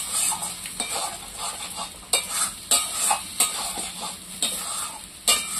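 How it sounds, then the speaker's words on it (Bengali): Mankochu paste being stirred in a pan over the stove, a steady scraping and sizzling with sharp utensil knocks against the pan every second or so, close and continuous with no talking. "এইভাবে পরপর নেড়ে যেতে হবে, নাড়া বন্ধ করলে হবে না"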